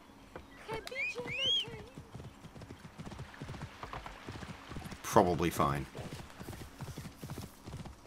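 Rhythmic horse hoofbeats clip-clop steadily throughout in Assassin's Creed Origins gameplay, with a horse whinny early on and a person talking over the footsteps.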